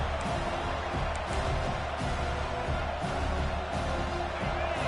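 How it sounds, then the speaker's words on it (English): A football stadium crowd at an Arkansas versus Vanderbilt game roars in a steady, dense wall of noise that holds without letup. "This crowd bringing the energy and noise early."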